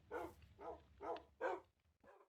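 Dogs in the Minecraft video game bark in a quick series of about five short, faint barks at a steady rhythm.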